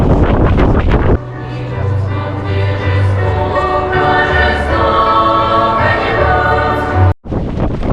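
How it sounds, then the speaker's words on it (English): Strong wind buffets the microphone with a heavy, steady roar during snowfall, with low flapping gusts that fit flags snapping nearby, loud and close throughout. "More snow and blowing wind and some dirt in my eye."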